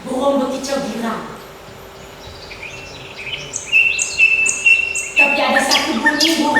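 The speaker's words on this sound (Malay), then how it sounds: "Burung berkicau girang." Birds chirp and trill at a moderate distance, with several bright high calls in a row, while voices speak at the start and end.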